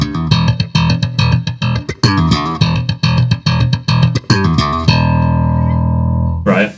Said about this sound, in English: if you were to scoop the mid right now, so roll off most of the mids, pre-shape off, it sounds like this.